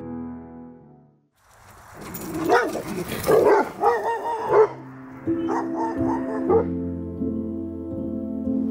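A pet dog barks and whimpers up close, with loud yips and bow-wows after a brief quiet start, then softer whining sounds trailing off, no talk over it.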